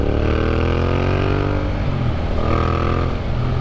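A Yamaha MT-07 motorcycle with an upgraded aftermarket exhaust revs loudly and steadily nearby, a dense, throaty engine drone rising slightly in pitch, with no talk.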